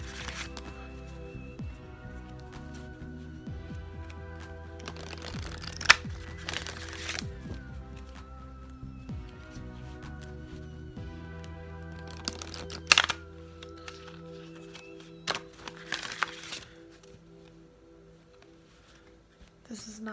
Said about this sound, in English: so I will shuffle them now